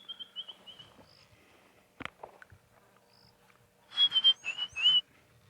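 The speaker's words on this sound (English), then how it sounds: "I was asked to warn people if I was going to whistle again" A person whistles during a live afternoon safari broadcast at Ngala Private Game Reserve, giving a few clear, high, fairly loud whistled notes near the end, with softer chirps and faint background sounds earlier.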